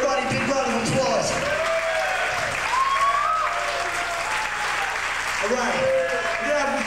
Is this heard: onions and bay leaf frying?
no